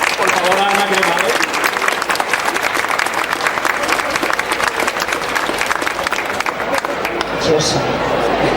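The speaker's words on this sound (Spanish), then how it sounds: "un fuerte aplauso, un fortísimo aplauso, por favor, a Ana Cremades." Loud, sustained applause from an audience at a Dragon Ball talk for voice actress Ana Cremades, packed clapping throughout that fades slightly near the end as voices begin under it.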